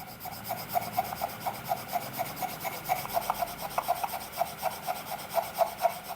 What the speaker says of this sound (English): Just gonna lightly sand the top, following the grain.